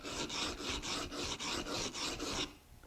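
A molding plane iron is ground by hand on a sharpening stone, giving about nine rhythmic, rasping back-and-forth strokes heard up close, which then stop.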